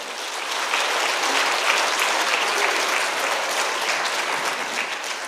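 Applause from a church congregation welcoming a guest professor to the front at a Wednesday evening service, a steady, dense wash of clapping that holds at an even level from start to finish with no voices.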